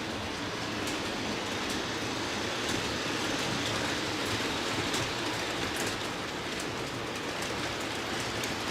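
Model trains run slowly on a layout, giving a continuous, even rumble with soft clicking wheel noise throughout and no voices.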